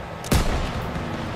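A single sharp, loud gunshot rings out in a Call of Duty: WWII battle, followed by a rumbling echo and steady background battlefield noise.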